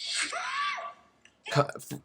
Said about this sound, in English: Let me hear his scream.